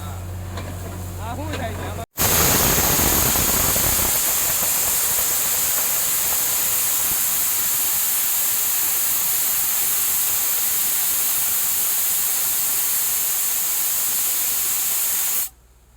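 Water blasts from a 600-foot borewell in a farm village in Gujarat, a loud, continuous roaring spray that bursts in abruptly after brief voices and cuts off sharply near the end.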